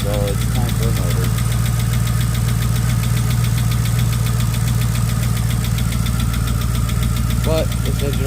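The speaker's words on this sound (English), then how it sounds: "all we have is a kick. And it kind of sounds like it's lifter related" Charger with a 392 engine idling with lifter knock, a rapid steady ticking over a deep continuous rumble, close and loud, with a few brief squeaks.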